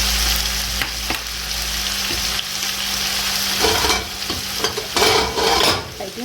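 Tomato paste being stirred into a chicken stir fry, with a loud, steady sizzle and repeated scraping stirs of the pan throughout, no talking.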